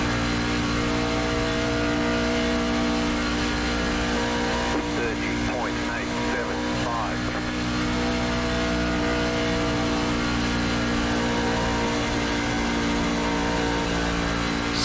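NASCAR race car engines at Las Vegas in iRacing roar continuously and loudly, a dense steady drone with layered engine tones and brief passing swells partway through.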